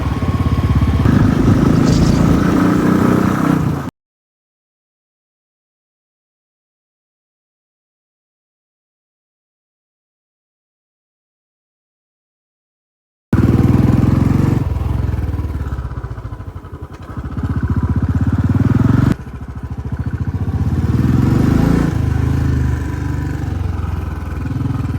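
A freshly cleaned motorcycle engine running and revving, loud and close, heard in two stretches separated by a long silent gap, with no talk.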